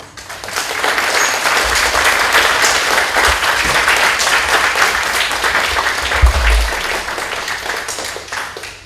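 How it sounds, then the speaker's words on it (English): Conference audience gives Professor Koei another round of applause at a plenary and closing session, steady full-room clapping that swells quickly and holds loud and even throughout, with a few low thumps and no talk. "Please give him another round of applause."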